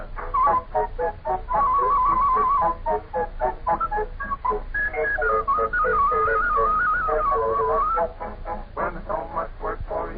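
A person whistles a cheerful, bouncy tune in a 1940s radio-style music hall setting, with sustained melodic phrases over a steady rhythmic accompaniment of ticking and chirping novelty effects, bright and close throughout.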